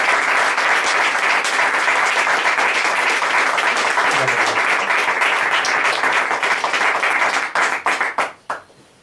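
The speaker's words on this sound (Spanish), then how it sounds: "Vamos a dar un aplauso al Señor" A church congregation applauds together: dense, loud clapping holds steady for about seven seconds, then thins to a few scattered final claps and stops.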